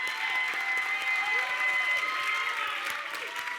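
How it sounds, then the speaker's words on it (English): Audience applause honouring the inductees of the Victorian Aboriginal Honour Roll at a 2023 ceremony, a steady, dense wash of clapping from a large crowd that holds evenly throughout. "just another massive round of applause to our 11 inductees to the Aboriginal Honour Roll"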